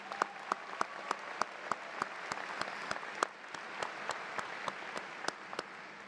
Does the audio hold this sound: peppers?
no